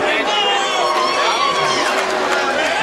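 A mixed crowd reaction rises at a Hawaii MMA event, a dense roar of cheering and chatter from a large audience that stays loud and steady throughout.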